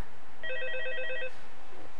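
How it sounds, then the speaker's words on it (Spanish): The phone from the Five Nights at Freddy's video game rings with a short burst of rapid, trilling electronic bell tones, clear and moderately loud, then stops, with no talk. "Ese es el sonido del teléfono de Five Nights at Freddy"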